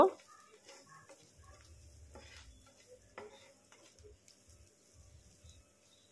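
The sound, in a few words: frying egg and onion mixture with cumin in a pan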